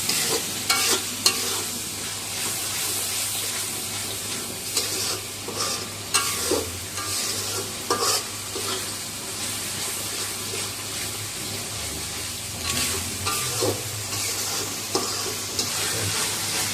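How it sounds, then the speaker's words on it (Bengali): Biryani spice masala fries in oil in a pan with a continuous sizzle, while a spoon stirs and scrapes in uneven bursts; a running-water sound mixes in, and nobody talks. "মশলাটা কষানো হয়ে গেছে"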